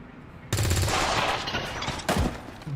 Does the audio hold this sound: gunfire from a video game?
yes